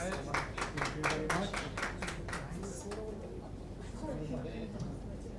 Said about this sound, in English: Come on, you can clap better than that.